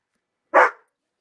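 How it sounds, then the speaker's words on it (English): A single sharp dog bark rings out indoors, close and fairly loud, then cuts off into silence. "Rebel, stop barking"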